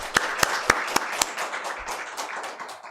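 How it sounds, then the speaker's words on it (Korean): A church congregation claps in thanks during a worship service: several sharp, evenly spaced unison claps opening, then looser, scattered clapping that trails off. "우리 한번 감사의 박수로 영광 돌립시다."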